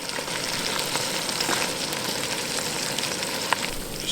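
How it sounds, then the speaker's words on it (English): Onions and burgers fry in a Trangia hard anodised frying pan, giving a continuous close, dense sizzling hiss with faint crackles and one small pop near the end, no voices. "I think it's about time to chuck some onion in now."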